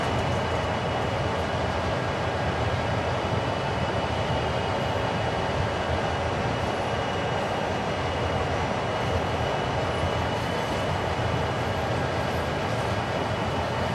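A train rolls steadily through a siding in the Train Sim World game, giving a continuous broadband rumble of wheels and running gear with no breaks and no voices.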